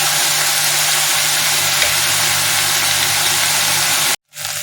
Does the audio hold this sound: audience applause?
no